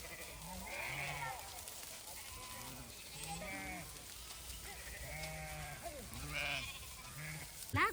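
Sheep and young lambs bleat repeatedly on a village farm, several overlapping calls at moderate distance, with people talking softly in the background.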